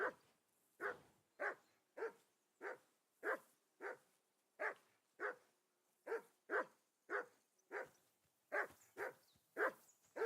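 A dog in Kingdom Come Deliverance II barks repeatedly in a steady, insistent rhythm, roughly sixteen loud sharp barks in ten seconds, close by and alone with no talk.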